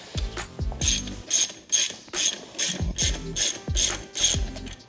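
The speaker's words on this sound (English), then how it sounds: "all we have to do is unscrew our two main bolts, and the wheel's ready to come off" Ratchet wrench with a 21 mm socket working the rear wheel bolts of a P-51 e-bike: close, crisp bursts of rapid clicking repeat in a steady rhythm, about eight strokes, with no talk.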